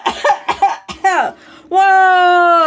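Several sharp, close coughs in quick succession from a person, followed by a sustained vocal sound.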